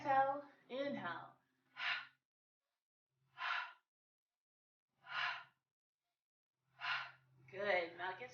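Slow, deliberate breaths during a chair yoga session, with an instructor's voice at the start and end; in between, several distinct breathy exhales and inhales spaced evenly apart, close and clear against a quiet room.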